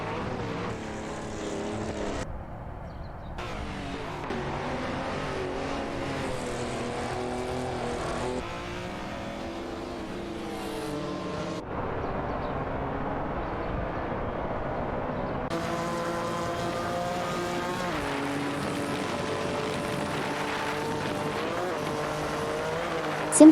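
Race cars roaring around a track in a video game, including a Corvette C3 and a Plymouth Barracuda, with layered engine whines rising and falling as cars shift gears and pass, continuous and fairly loud throughout.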